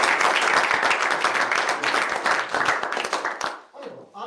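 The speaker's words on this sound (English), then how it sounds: "Can we give a quick round of applause for our clerk?" A quick round of applause from a student senate meeting audience, brisk and fairly close, lasting a few seconds before tapering off abruptly into a quiet room.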